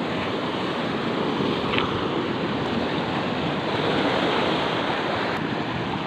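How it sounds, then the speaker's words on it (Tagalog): Steady roaring surf with heavy wash of water and wind noise, loud and continuous throughout, with no voices. "may alon na malaki"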